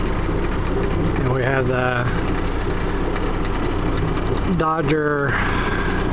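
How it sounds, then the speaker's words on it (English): Sailboat Windwalker's engine idles as a steady low drone beneath someone talking, with water and open-air noise around it. "And we got the engine running."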